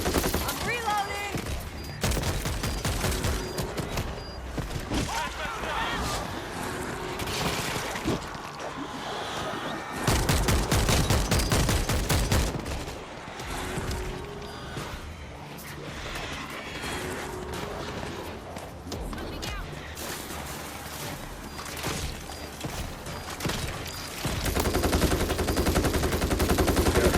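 Loud, dense gunfire from World War Z: Aftermath on the Tokyo map in XL horde mode: sustained bursts of automatic fire and rapid shots roll almost without pause across the whole stretch, with only brief lulls between volleys.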